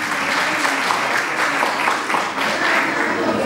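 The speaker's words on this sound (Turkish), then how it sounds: "Sayın Mehmet Çelik Beyefendi'yi alkışlarla davet ediyorum." Steady applause from an audience at a March 8 International Women's Day and martyrs' commemoration program fills the whole stretch, a dense even wash of clapping without pause.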